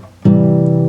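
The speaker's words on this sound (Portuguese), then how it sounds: "de uma tríade maior com o baixo na fundamental." A single sustained major triad in root position, bass on the root, sounds on a keyboard-like instrument, entering sharply after a brief quiet moment and holding steadily.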